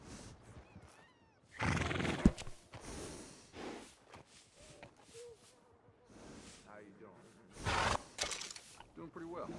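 A workhorse in Red Dead Redemption 2 lets out loud whinnies and snorts, with hoof clip-clops and in-game character speech between the bursts.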